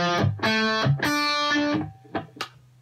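Distorted electric guitar tuned to D standard playing a black metal riff: loud sustained crunchy chords, then a couple of short clipped stabs fading into quiet, with no voices.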